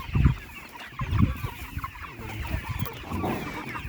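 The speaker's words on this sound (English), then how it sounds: "chickens!" A flock of chickens clucking nearby, with several louder bursts of calls rising and falling over a few seconds, no talking.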